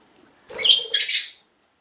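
Pet birds being fed broccoli at home let out two short, close squawking calls in quick succession, loud and clear with no talking.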